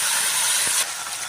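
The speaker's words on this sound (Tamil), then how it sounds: "கொஞ்சம் சீரகம் ஒரு ஸ்பூன் போட்டு அது பொரிய விடுறேன்." Cumin seeds sputter in hot oil in a pan, a steady close, loud hissing crackle that runs through the whole moment with a brief low thump partway and a slight drop near the end.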